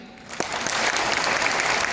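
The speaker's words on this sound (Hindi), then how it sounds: "ताली बजा लीजिए" An audience at a Modicare business speech in Dubai bursts into applause after a brief quieter moment, and the clapping swells into a loud, dense, sustained round.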